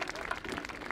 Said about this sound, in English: that deserves a round of applause for sure